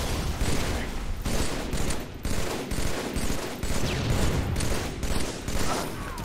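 Rapid shotgun blasts in a first-person shooter game crack out in a dense, nearly continuous volley, loud and close, with brief gaps between bursts.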